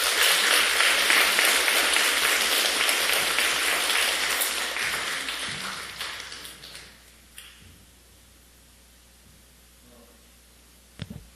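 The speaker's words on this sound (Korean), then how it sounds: "우리 박수로 우리 권사님 축하하도록 하겠습니다" A church congregation applauds during a deaconess installation service, a dense, full round of clapping that fades out after about six seconds into quiet room tone.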